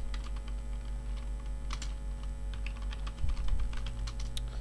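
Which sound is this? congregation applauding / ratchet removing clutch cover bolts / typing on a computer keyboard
typing on a computer keyboard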